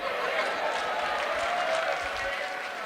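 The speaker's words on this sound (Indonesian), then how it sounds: "Tepuk tangan buat apa itu?" Applause from a church audience during a sermon by Pastor Marcel Saerang. The clapping is a steady, moderately loud wash of many hands with faint murmuring underneath and no clear breaks.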